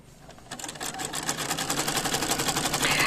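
A sewing machine runs a zigzag stitch along fabric about 1 cm from a pattern line, starting faintly and then chattering steadily and rapidly at close range with no voices.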